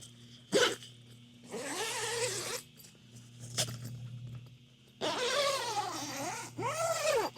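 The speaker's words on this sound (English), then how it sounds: "Zippers seem to be good." A Coleman Instant Tent 4P door zipper pulled in several quick rasping strokes, close and fairly loud, with short pauses between pulls.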